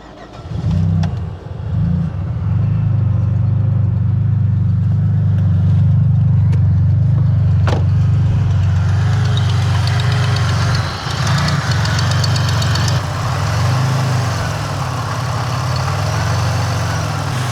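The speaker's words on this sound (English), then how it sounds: "But it's not idling steady, it's going up and down." A car engine idles unsteadily for the full stretch, its loud close drone surging and sagging in slow uneven waves, with a suspected loose spark plug and a recent failure to start.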